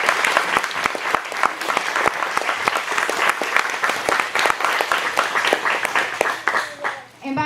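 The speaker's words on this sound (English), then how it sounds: "Let's all give her a round of applause." A crowd applauds at a Miss Rodeo pageant for a contestant who is a United States veteran: a steady round of dense clapping that fades near the end, with a voice rising over it at the close.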